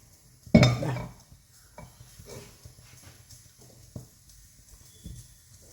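A metal cooking pot is set down on a stove with a loud clanking impact, followed by a few fainter clinks and small knocks in a quiet kitchen.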